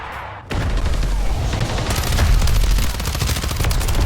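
Sustained automatic gunfire in Call of Duty Warzone bursts in after a brief quiet start and continues loud and dense, with heavy low rumble and no voices.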